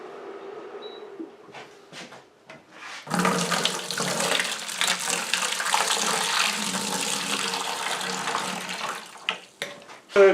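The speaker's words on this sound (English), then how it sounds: "Let's put a little bit of warm water in there to help dissolve that." Warm water pours into molasses for a rum wash, opening with a few faint clinks before a loud, continuous splashing stream runs for several seconds, then tapers into scattered drips and knocks.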